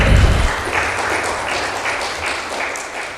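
An audience at a national tourism debate applauds in a broad, continuous wash of clapping, loud at the start and then settling into a steady roar that holds throughout.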